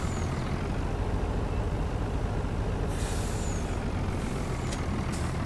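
An American truck drives in Farming Simulator 19 on German roads, its steady, loud engine rumble running throughout, with sharp air-brake hisses bursting out near the end; no one speaks.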